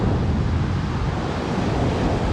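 Ocean surf rolling onto a Florida beach, a steady broadband wash of breaking waves with wind buffeting the microphone throughout, loud and continuous with no voices.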